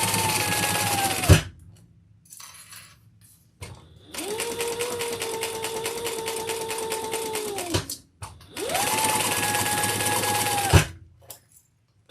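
Sewing machine stitching a handbag at a shortened stitch length, running in three steady bursts with a pause before the first and quiet gaps between, close and fairly loud.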